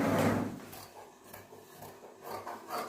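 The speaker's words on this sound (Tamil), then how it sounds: "அடுத்து நம்ம பேக் பீஸ் கட் பண்ணுறோம்." Scissors cutting the back piece of a blouse from fabric, a few soft rasping snips and rubbing strokes close by and fairly quiet, with no talking.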